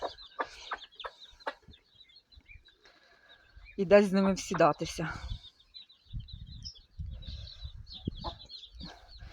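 Shamo fighting-breed chickens cluck and chatter nearby in a farmyard in short bursts, with a louder squawking call midway and a person speaking briefly over them.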